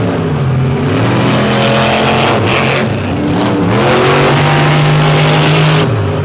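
Low-slung racing trucks roar past at speed, engines loud and close with rising and falling revs and a sustained droning note, no speech over the racket.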